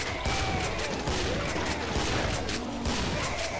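Rapid gunfire in the co-op shooter Killing Floor, a dense fusillade of shots crackling continuously at moderate volume over busy game noise.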